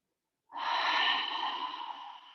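A single long, breathy exhale drawn through a constricted throat during gentle yoga, a soft ocean-like rasp that starts abruptly after a moment of silence, stays close and steady, then slowly fades.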